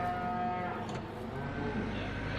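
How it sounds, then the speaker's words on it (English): Cattle in Farming Simulator 17 moo in a steady, close game soundscape, with low mechanical drone running underneath and no talk over them. "Cows are down here."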